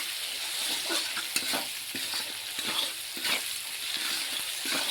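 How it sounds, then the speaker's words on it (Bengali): Tomato with salt, turmeric and chili powder sautéing in a pan, a soft continuous sizzle broken by repeated stirring scrapes at a fairly even pace, close by. "আর একটু সব কিছু দিয়ে একটু ভালো করে কষিয়ে নিই।"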